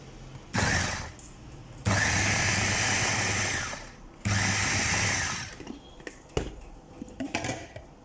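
An electric meat grinder mincing meat and onion whirs in three loud, close bursts of a few seconds each, separated by short pauses, then fades to scattered clicks and handling sounds.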